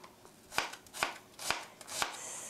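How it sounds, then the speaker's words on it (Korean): Knife chopping tomatoes for tomato soup on a cutting board: four sharp, evenly spaced chops about half a second apart, close and clear with little else around them. "썰고 넣고 썰고,"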